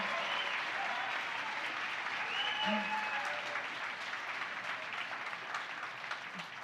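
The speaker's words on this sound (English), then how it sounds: "let's give a round of applause for all 4 of our participants tonight" Sustained audience applause at a live community crowdfunding event, a steady wash of many hands clapping evenly throughout at moderate level, with a faint voice briefly under it.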